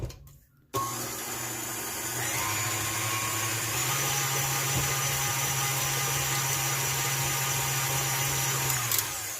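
A loud electric mixer whirs steadily, blending flour, baking soda, baking powder, cinnamon and salt for a blueberry coffee cake; the motor starts abruptly after a short quiet moment and holds a constant drone.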